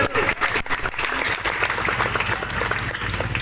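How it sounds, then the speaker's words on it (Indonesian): A crowd at a limited-size election campaign rally claps loudly and steadily for several seconds, a dense roomy applause with some voices and cheering mixed underneath. "Tepuk tangan dulu."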